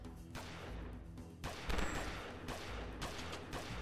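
Gunfire in the video game Prohibition 1930 comes as fairly faint, repeated bursts of shots with crashing impacts, several volleys spread across a few seconds against steady game background noise.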